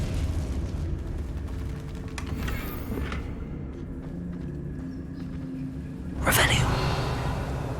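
A Confringo fire spell in a video game bursts in one sharp, loud blast near the end, rising out of a low rumbling game backdrop.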